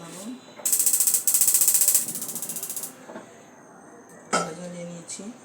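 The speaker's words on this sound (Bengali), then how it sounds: "চুলা জ্বালাবো" A gas stove burner in a home kitchen is lit, with rapid repeated clicks of the igniter in bursts, a gas hiss, and a metal frying pan clanking on the grate as a person talks briefly.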